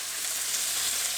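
Big chunks of Aldi pork fillet fry in a pan, a loud, dense, close sizzle that stays even throughout.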